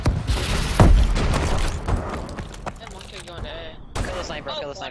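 Grenade blasts going off at objective B during a Call of Duty search and destroy match, a heavy boom near the start followed by several more bursts and gunfire-like cracks, with game effects and voices mixed in.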